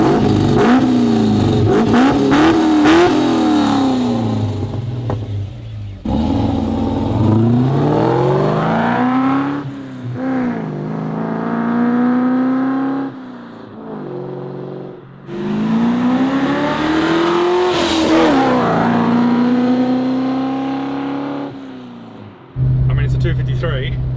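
A Holden HQ with a 253 V8 and 2.5-inch exhaust revs hard in several long, rising pulls, loud and close, with brief pauses between bursts and a voice talking over it.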